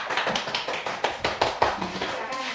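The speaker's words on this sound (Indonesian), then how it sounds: "Tepuk tangan untuk kelompok 3." Schoolchildren in a classroom clap their hands for a classmate group after a religious studies lesson, a scattered, uneven patter of claps with a few sharper individual hits, moderately close and without voices.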